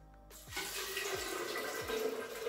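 Generous stream of water poured onto beans in a hardwood mortar for Nigerian moi moi, starting after a brief quiet moment and running as a steady, close splashing pour with faint low thumps.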